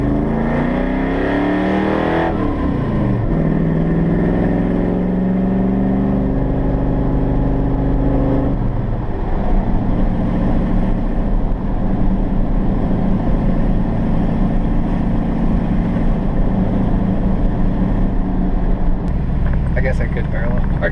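A 396 big block Chevy rumbles loudly from inside the car during a quick ride. Its engine revs and drops, then settles into a steady, heavy drone, and voices speak over it.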